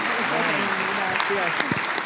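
Church congregation applauding loudly and steadily through a Spanish-language worship service, dense continuous clapping with voices mixed in.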